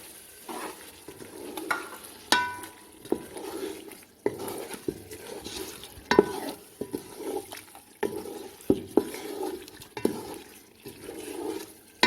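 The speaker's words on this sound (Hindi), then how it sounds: "अब हम इसमें खुश्क मसाला ऐड करेंगे, सॉल्ट ऐड करेंगे, कुटी हुई लाल मिर्च ऐड करेंगे। अच्छी तरह से मिक्स करेंगे।" Chicken pulao being stirred in a pot with dry spices, salt and crushed red chilli, giving repeated scraping and clinking strokes over a soft sizzle, close and fairly steady with no talking.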